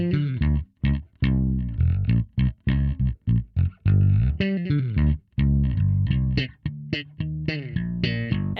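Bass guitar low end, hyper-compressed through a Portaflex amp, playing a choppy rhythmic rap-style line of short punchy notes with a thick, even, fat tone, loud and alone.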